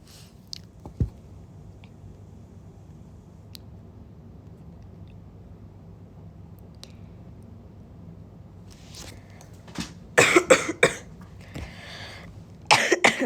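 Quiet room tone with a few small clicks, then a burst of several loud, close coughs near the end, followed by one more.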